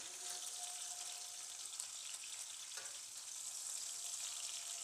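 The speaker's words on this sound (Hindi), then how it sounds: "एक साइड से हो गया फ्राई। अब हम इसकी दूसरी साइड चेंज करेंगे।" A Peshawari-style beef chapli kabab fries in a pan with a soft, steady sizzling hiss that carries through without break, with no voices.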